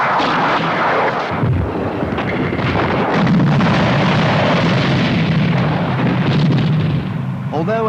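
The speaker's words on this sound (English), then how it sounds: "you can expect additional fire from heavier guns and multiple-barreled rocket launchers" A 1983 British Army training film's simulated Soviet artillery barrage from heavy guns and multiple-barrelled rocket launchers, heard as loud, continuous rumbling blasts and booming impacts with a voice narrating through it.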